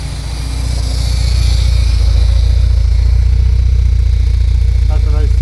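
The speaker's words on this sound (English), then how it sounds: "That's a nice sounding exhaust too." A 1979 Porsche 924 idles with its exhaust rumbling, a loud steady low throb that swells in the first second and then holds, close by, with a voice briefly heard near the end.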